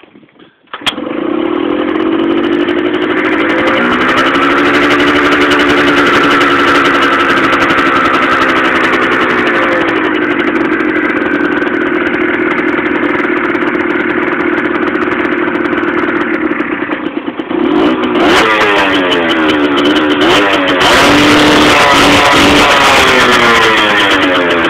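Suzuki TS 50 small motorcycle engine with choke on starts after a click, then idles in a steady buzzing drone and revs up sharply near the end, loud and close, no talk.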